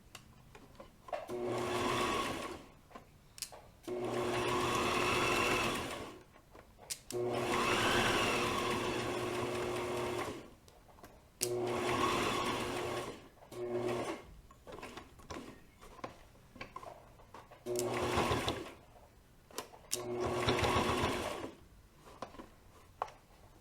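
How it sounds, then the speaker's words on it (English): A sewing machine stitching an owl purse from a kit runs in bursts of steady whirring hum, several seconds each, separated by short pauses with small clicks and handling noises, close and moderately loud. "you're going to stitch to that stitch mark where you started before"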